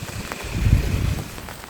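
Autumn rain on a September day falls as a soft, steady patter with a low, gusty rumble swelling in the middle, and no voices.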